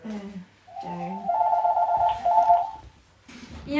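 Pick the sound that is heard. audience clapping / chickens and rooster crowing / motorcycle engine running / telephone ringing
telephone ringing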